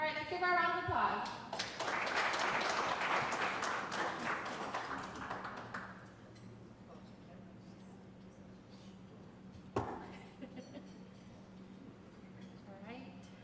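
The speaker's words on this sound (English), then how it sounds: "Give her a round of applause." Audience applause at a chamber of commerce general membership meeting swells for about five seconds, then fades to scattered taps and room noise with a sharp knock near the end.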